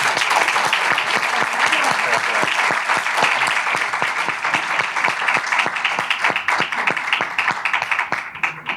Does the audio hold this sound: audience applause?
yes